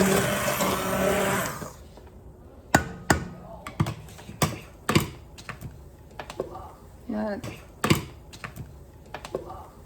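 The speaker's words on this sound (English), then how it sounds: "I am using an immersion blender again" An immersion blender motor whirs loudly for a couple of seconds while blending cream of watercress soup, then cuts off, followed by scattered knocks and taps against a pot.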